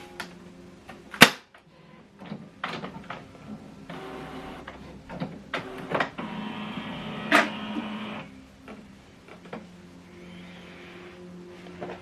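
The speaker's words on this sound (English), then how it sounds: "so switch this printer on." An HP ENVY Inspire 7220e inkjet printer whirs and clicks as it powers on, with several sharp clacks and a rising motor hum in a quiet room.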